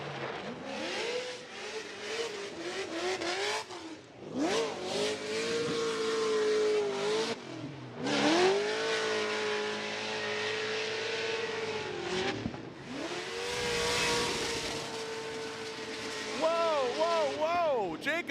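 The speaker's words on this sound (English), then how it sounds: "Listen to this V8" V8-swapped Nissan S14 drift car at a Formula Drift pro championship event, engine revving and screaming through repeated pulls with rising and falling pitch, fairly distant over crowd noise and an announcer talking throughout.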